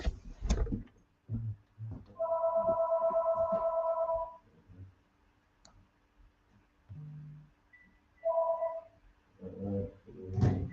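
A telephone rings in two bursts of electronic trilling tones, separated by a pause, with soft handling clicks and brief muffled sounds of the phone being answered and hung up, quiet and close.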